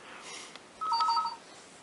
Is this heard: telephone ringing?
yes